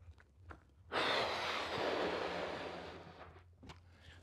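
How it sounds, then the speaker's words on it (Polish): A single long, forceful breath blown into a balloon during a breathing exercise, a steady rushing exhale lasting a few seconds, with soft breaths before and after. "to jednym oddechem w zasadzie już sporą część tego balona nadbuchałem"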